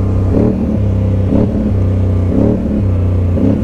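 An off-road Polaris Sportsman XP1000 S ATV from 2025 sounds a steady, loud engine note close by, with rhythmic surges of revving and throttle blips roughly once a second over a constant mechanical rumble.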